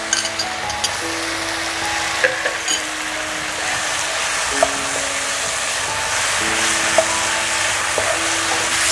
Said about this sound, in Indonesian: Lalu saya masukkan babat tadi ya yang sudah saya potong-potong, masukkan semua.